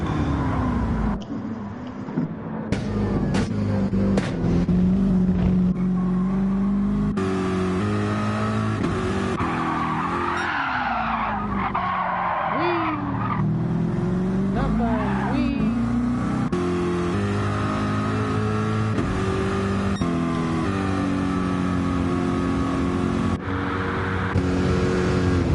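Race cars in a video game roar and rev steadily throughout, with engine pitch swooping as they accelerate and a tyre skid squealing midway, loud and continuous.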